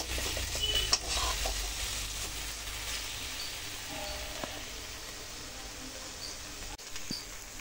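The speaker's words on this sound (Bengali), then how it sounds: "মশলা ভালোভাবে কষে গেছে, মশলা থেকে তেলও ছেড়ে এসেছে।" Spice masala cooks down in oil for a potato and pointed gourd curry, giving a faint, low, steady sizzle with a few soft clicks of stirring, quiet and distant-sounding with no speech.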